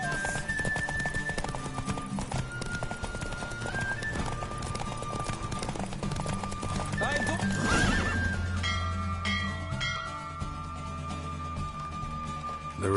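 Roach, a horse in The Witcher 3, galloping in a race, with hoof clip-clops and whinnies under game music and ambience, mid-loud and steady throughout.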